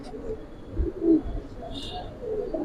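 Giribaz pigeons of the Jabra Pankhi breed at a pigeon sale give a few soft, low coos, with a brief higher chirp shortly after, all faint against quiet background murmur.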